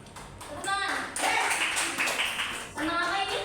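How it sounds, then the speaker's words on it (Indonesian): Children in a classroom clapping during a modern poetry lesson, a burst of scattered applause with a teacher's voice heard before and after. "Tepuk tangan."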